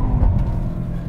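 A 2021 Mercedes-AMG E63S Wagon engine rumbles loudly and steadily during a drift mode test, a brief close low-pitched growl with a slight swell near the start.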